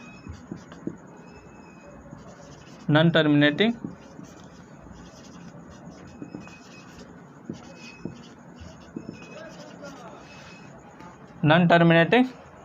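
Classroom board writing, with brisk scratching and tapping strokes that carry on steadily, while a teacher speaks in two short stretches over it.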